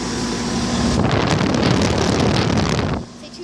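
A 1996 Rheem 4-ton central air conditioner with a GE-motor two-bladed fan and Copeland scroll compressor running outdoors, a loud steady whooshing roar that cuts off abruptly near the end, leaving a quieter hum.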